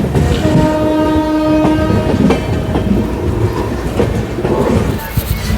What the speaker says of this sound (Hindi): तो हमारी train before Ghaziabad railway station पर पहुँच रही है